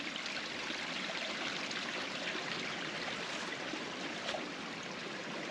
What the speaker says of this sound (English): There's some more of that same creek flowing down through here.